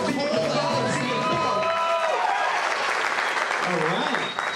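A comedy show crowd for comedian Cole Alexander: loud, dense applause and cheering with whoops filling the whole stretch, voices mixed into the roar.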